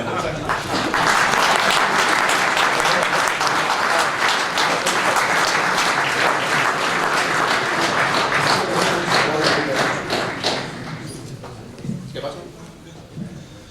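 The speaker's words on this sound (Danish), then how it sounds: "Det er sjældent, at man blevet taget imod med klapsalve hernede." Dense, sustained applause from a large audience welcoming a speaker at a New Year's banquet, loud and steady for about ten seconds before fading into scattered claps and room noise.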